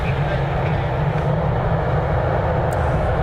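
An Embraer 175 jet touches down on runway 6 left, giving a steady, loud, broad roar of engine and rolling noise that stays constant throughout without a distinct peak.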